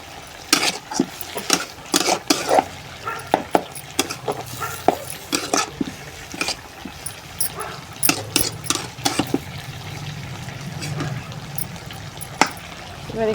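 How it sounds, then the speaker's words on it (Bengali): Greens being stirred in a pan while a vegetable curry cooks alongside at home, with repeated scraping and clattering strokes over a soft simmering sizzle and someone talking at times. "শাকটা ভালো করে একটু নেড়ে ছেড়ে দিই"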